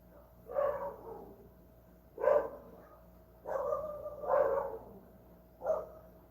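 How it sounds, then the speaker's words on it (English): Several dogs barking at a distance in a nighttime neighborhood, four or five separate muffled barks spaced a second or more apart, faint and with no talking over them. "So I'm hearing my dog barking now."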